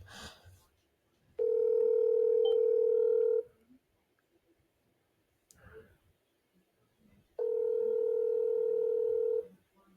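Two long, steady ringback tones of an outgoing phone call, each lasting about two seconds, separated by a pause of several seconds, with faint clicks and brief handling noise in between.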